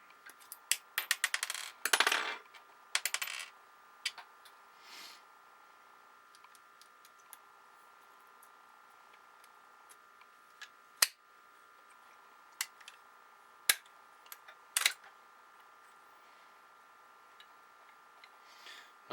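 Live cartridges are loaded into a Stevens falling block rifle: a quick cluster of metallic clicks and rattles at first, then sparse, sharp isolated clacks, close and fairly quiet, with no talking.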